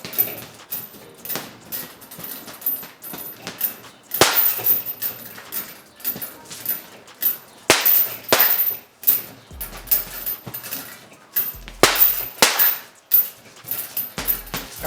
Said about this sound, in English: you can definitely get great pop out of the gloves and the bag.